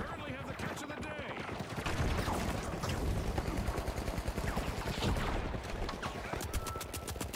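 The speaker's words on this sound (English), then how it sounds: "Oh my god, that fucking turret." An automated turret in The Finals fires rapid, continuous bursts of close gunfire with dense repeating shots throughout, while a voice talks over it.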